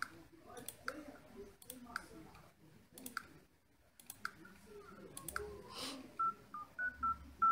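Phone dialing in The Sims 3: a series of soft clicks, then a run of short electronic keypad tones in quick succession, with light game sounds and some speech in the background.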